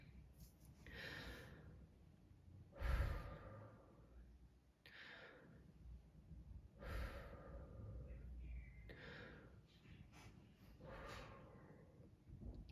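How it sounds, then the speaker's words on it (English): Three slow, deep breaths drawn in and let out in a steady rhythm during a calm guided pause, each exhale soft and airy, close to the microphone with no talking over them. "we're going to take 3 deep breaths together"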